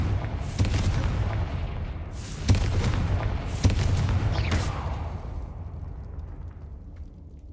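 Confringo fire-blast spells cast in Hogwarts Legacy: a few sharp, loud booms over a rumbling bed, the last one trailing into a long fading tail that drops to near silence.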